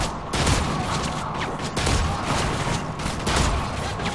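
Gunfire in a multiplayer shooter video game, dense continuous shooting with overlapping bursts and booms throughout, fairly loud and steady with no clear pauses.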